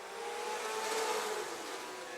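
Race cars roar away together at the green-flag start of a dirt track race, a loud, sustained engine drone swelling slightly mid-pass, with no voices over it.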